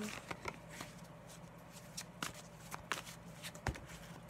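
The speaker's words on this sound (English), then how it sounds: "this is just one last good shuffle to get that message to you" Tarot cards are riffled and shuffled in quick bursts of soft flapping clicks, close and quiet, with no voices.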